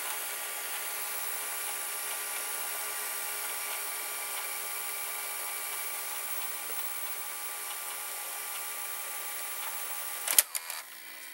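An RCA VR335 VCR rewinds a tape with a steady, even mechanical whir that runs unchanged for about ten seconds, then ends in a few sharp clunks as the transport stops.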